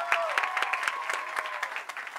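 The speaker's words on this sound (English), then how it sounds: "round of applause for Wendy Goldstein, first of all." Crowd applause at a Hollywood Walk of Fame star ceremony honoring the Jonas Brothers, an outdoor mass of clapping with cheers and a rising whistle running through it, fairly loud and continuous.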